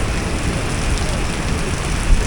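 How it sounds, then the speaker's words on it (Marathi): Heavy rain pours down steadily on a beach by a small beachside café in rural Vietnam, a dense, loud, continuous hiss with no pauses. "खूप जोरात पाऊस येतोय"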